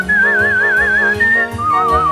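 An International Grand Champion whistler whistles a clear, close melody in three sustained phrases with rippling vibrato, stepping down in pitch toward the end, alone without any speech.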